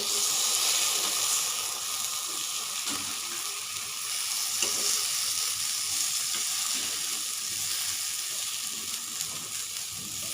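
Potato and brinjal slices coated in mustard paste frying on a tawa make a dense, even sizzling hiss that holds steady for about ten seconds, close up, with faint shuffling underneath and no talking.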